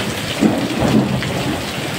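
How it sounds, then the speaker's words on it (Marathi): Heavy rain pours steadily over the town of Kej during a thunderstorm, a dense continuous hiss with low rumbling thunder swelling beneath it, no voices. "मेघगर्जनेसह अतिशय जोराचा पाऊस केज शहरात होताना दिसतोय आपल्याला"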